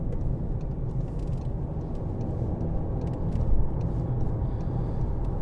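A 2017 Volkswagen Golf 2.0 TDI BlueMotion Tech GT accelerating around a bend: a steady low engine and road rumble heard from inside the cabin, with a slight swell midway and no talk.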